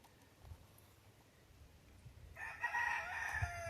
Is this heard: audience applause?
no